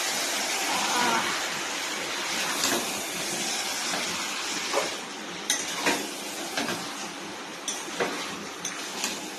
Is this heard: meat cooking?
yes